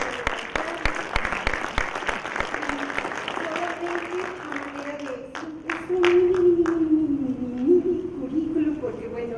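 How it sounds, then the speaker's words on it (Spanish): Applause at a national research congress greets a guest speaker, scattered claps rippling for several seconds before a voice speaks over the fading clapping. "Bienvenida, Lidia, un aplauso."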